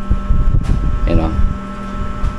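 An Okinawa air conditioner runs noisily indoors, giving a steady close whir and hum with a faint mechanical rattle throughout.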